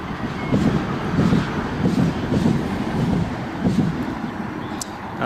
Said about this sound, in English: That was the sound of the metro train again, just heading into Newcastle.